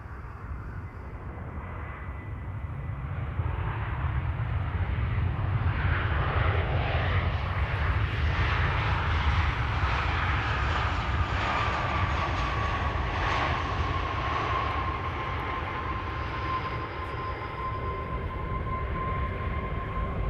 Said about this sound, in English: up next, flight 944. That's a MAX 8 737 arriving from Izmir in Turkey.